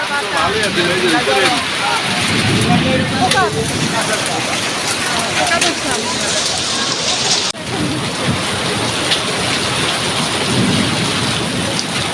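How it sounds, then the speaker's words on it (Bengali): Heavy rain pours steadily throughout, with low rumbling thunder rolling in the background and a sharp crack partway through. "কি পরিমাণ বৃষ্টি"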